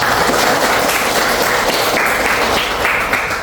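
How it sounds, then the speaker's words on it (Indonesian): A classroom of students applauds a classmate with steady, dense clapping that holds at an even level for several seconds, with no talking over it. "Tepuk tangan untuk Pipa."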